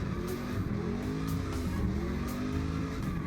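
A drift car's engine revs hard with squealing tires through a drifting run, a loud, continuous roar over about three seconds.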